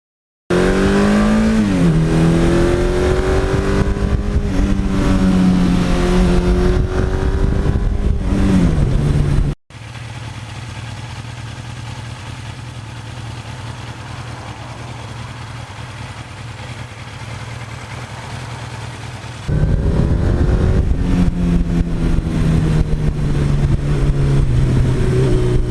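A 1982 Suzuki GS1100E motorcycle engine revs loudly and climbs through its power band on twisty, slippery roads, steady drone dropping mid-ride before rising again with rising pitch sweeps; no talking.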